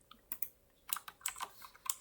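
Quiet clicking of keys on a computer keyboard while writing code, irregular bursts of close, light taps with short pauses between them and no talking.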